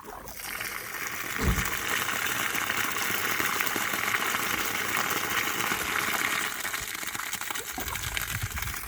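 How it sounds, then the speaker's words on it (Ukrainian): Water runs steadily from a tap in a hissing stream for several seconds, with a few soft knocks before and after. "Зараз зливаємо з крана е, ту воду, що була в ньому набрана для чистоти експеримента"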